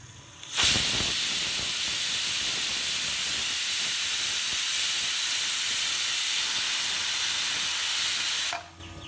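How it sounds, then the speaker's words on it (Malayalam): A pressure cooker on the stove, cooking pea leaves for a stir-fry, lets out one long, loud, steady whistle and hiss of steam that starts abruptly, holds for about eight seconds, then cuts off. "ഇപ്പോൾ ഒരു വിസിലടിച്ചിട്ടുണ്ട്."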